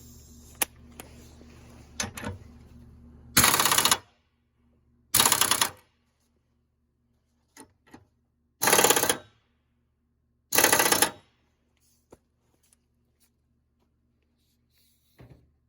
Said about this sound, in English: that socket for that is a 15/16 to tighten those nuts up